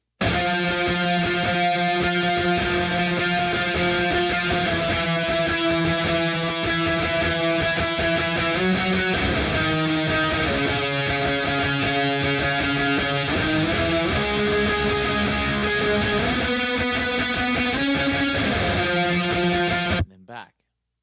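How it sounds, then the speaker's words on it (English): Electric guitar strums sustained chords that shift from bright major to darker minor voicings, steady and continuous for about twenty seconds before cutting off. "the other guitar plays with the major to the minor, which sounds like this"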